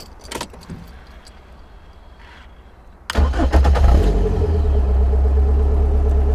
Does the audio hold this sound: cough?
no